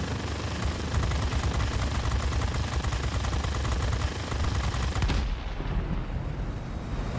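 Aircraft machine-gun fire in the World of Warplanes video game, a rapid continuous rattle of shots under engine and wind roar that cuts off abruptly about two thirds through, leaving quieter engine noise.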